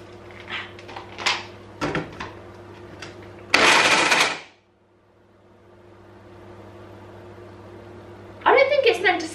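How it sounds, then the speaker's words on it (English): A loud blender whirs in a short burst of about a second, between stretches of talk, followed by a quiet hum and then a brief rising whine. "Right, let's get blending."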